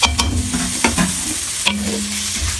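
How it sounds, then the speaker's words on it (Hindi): Onions sautéing in a pan for an Afghan shola, a steady sizzle and fry with a few stirring scrapes and knocks against the pan, close and continuous, with no talking. "ये दो प्याज जाएंगे। इसको जरा सोते कर लेंगे थोड़ा सा"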